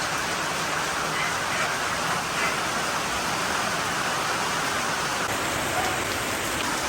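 Heavy rain falls steadily in Kerala, a dense unbroken hiss of drops on surfaces, close and loud for the whole stretch with no voices.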